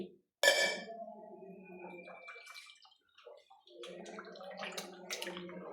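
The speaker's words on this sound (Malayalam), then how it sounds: "ഇനി നമുക്ക് 1/2 ലിറ്റർ പാലൊഴിക്കാം." Half a litre of milk poured into jaggery syrup for wheat payasam, a close liquid splash and gurgle that starts abruptly and keeps trickling, with faint clinks of the pan.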